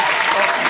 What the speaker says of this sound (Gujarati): અને બી આન્સર વાળા માટે આપણે પાડીએ છીએ જોરદાર જબરદસ્ત જક્કાસ તાળીઓ